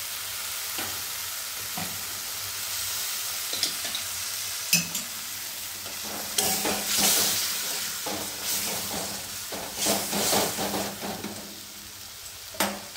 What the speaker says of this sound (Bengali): একটু সামান্য জল অ্যাড করছি।